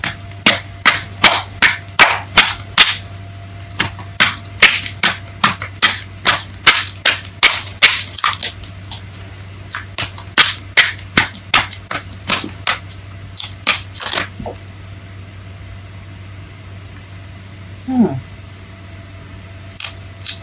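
Tarot cards are shuffled in a close series of sharp, rapid slaps and clicks that come in bursts for roughly twelve seconds, then thin out to a few scattered taps over a low steady hum.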